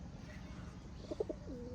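A few soft pigeon coos, three short low notes close together, over a steady background murmur.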